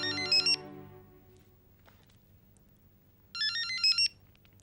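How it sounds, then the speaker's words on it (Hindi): A telephone rings on an outgoing call: two short bursts of a bright electronic ring tone, the second after a long quiet gap filled only by faint background hum. "अभी फोन करती हूँ सैम को।"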